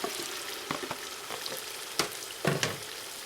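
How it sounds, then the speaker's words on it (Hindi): Potatoes dropped into a tomato and onion masala frying in a pan for an egg and potato curry, producing a quiet, steady sizzle broken by a few soft stirring clinks and scrapes, with no voices. "अब आप इसमें स्ट्रेट अवे अपने जो आलू हैं उन्हें ऐड कर लें"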